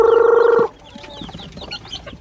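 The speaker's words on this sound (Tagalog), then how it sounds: "Oh, pakain ko nga sa mga manok." Farm chickens cluck close by, with one loud sustained rooster-like call at the start and then a scatter of softer clucks and chirps.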